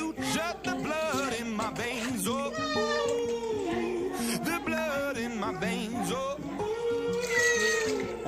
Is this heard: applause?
no